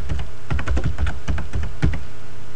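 Quick typing on a computer keyboard, a close run of rapid, uneven key clicks and thumps lasting a couple of seconds, with no talking.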